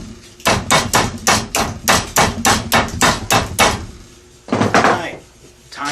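Hammer striking a metal rose held in a vise, a loud rhythmic run of about a dozen close metallic blows, a short pause, then two or three more strikes.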